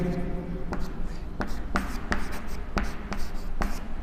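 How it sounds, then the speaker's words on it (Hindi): Pen writing by hand on paper during a geography lesson, a steady run of scratchy strokes with short repeated taps, close and fairly quiet, while a teacher speaks softly. "तो इसमें हम लिखेंगे"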